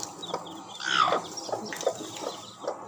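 A hen among newly hatched chicks, with soft repeated clucks and faint chick peeps close by in a quiet setting.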